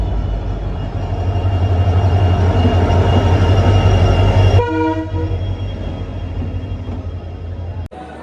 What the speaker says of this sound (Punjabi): ਫਾਈਨਲੀ ਟ੍ਰੇਨ ਵੀ ਆ ਗਈ ਆਪਣੀ